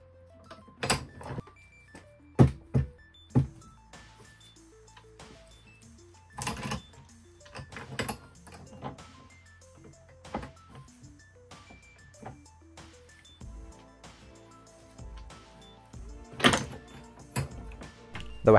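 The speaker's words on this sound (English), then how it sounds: "I used the sockets in the vise method to draw out the single bearings," Motorcycle swingarm linkage bearings are pressed out using sockets clamped in a vise, giving scattered sharp metallic clicks, creaks and knocks separated by quiet pauses, with one louder crack near the end.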